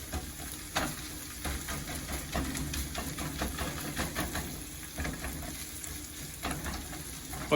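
Rice frying and being stirred with a spatula in a non-stick pan, giving a continuous close sizzle broken by repeated scraping strokes.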